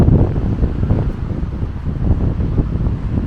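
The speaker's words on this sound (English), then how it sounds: "It's really windy, so I hope the audio is okay." Strong gusts batter the microphone on a hike at Hanging Rock State Park, a loud, continuous buffeting roar that swells and dips without letting up, with no voices over it.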